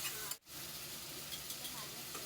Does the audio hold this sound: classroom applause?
no